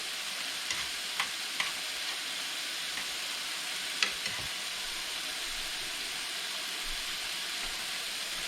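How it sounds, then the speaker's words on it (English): Bush's home-style baked beans stirred and sizzling in a pan while making burgers, a steady frying hiss with a few sharp scrape clicks from the spoon, close and without talk. "Starting to get a bit of steam on our beans."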